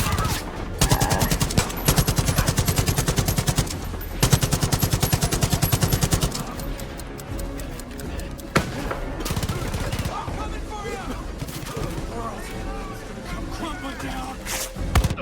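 Video game gunfire in Far Cry 5: dense automatic bursts rattle loudly and rapidly for several seconds, pause briefly, then give way to more scattered shots and explosion-like crashes mixed with game sounds and some speech.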